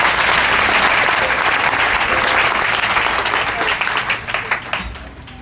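A church congregation applauds in acclamation of God, a loud sustained burst of many hands clapping that thins into scattered claps and fades out toward the end, with voices mixed in.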